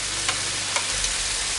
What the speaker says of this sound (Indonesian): bila sudah mendidih sebentar, kita masukkan untuk tomat freshnya